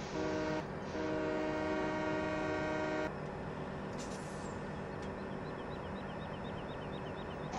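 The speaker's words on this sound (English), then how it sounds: "This is the right-hand train. Got to take the train around." Steady, loud rumble of a train running in Farming Simulator 17, with a sustained horn-like tone for the first three seconds, then continuous rolling noise and faint chirping sounds near the end; no speech.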